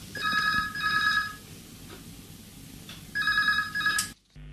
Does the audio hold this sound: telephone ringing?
yes